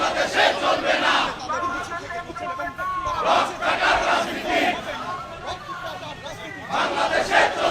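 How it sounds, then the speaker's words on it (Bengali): A crowd of students at a Chhatra Dal protest march at Dhaka University chants slogans loudly in unison, rhythmic call-and-response shouts that rise and fall continuously over general crowd noise. "তারা স্লোগান দিচ্ছে, রক কাটা রাজনীতি বাংলাদেশে চলবে না।"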